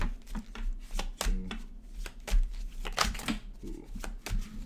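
Tarot cards are shuffled during a reading, a continuous close riffle of rustling, slapping card noise with irregular sharper snaps throughout, and no talk over it.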